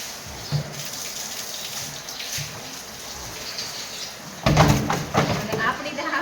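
Hot water pours and splashes while cattle are washed in a stable on a winter day. The splashing is continuous and swells louder near the end, with people talking over it.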